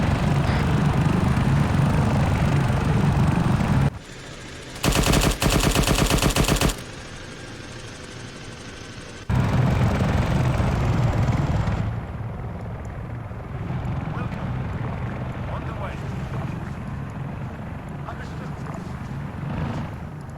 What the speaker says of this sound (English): Hearing a helicopter coming in.